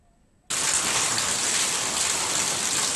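Heavy rain during a storm in Rajasthan begins abruptly after a short quiet moment, then pours as a loud, steady, dense hiss, close and continuous, with no voices.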